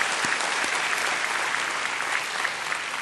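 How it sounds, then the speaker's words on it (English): Graduation ceremony audience giving sustained applause, a thick, even wash of many hands clapping in a large hall, steady throughout without any voices. "So please give them an applause."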